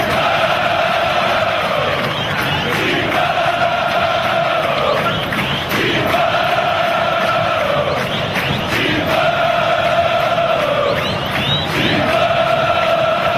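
Corinthians football supporters chant in unison inside a packed stadium, a loud, continuous rhythmic crowd song with swelling repeated phrases and no pauses.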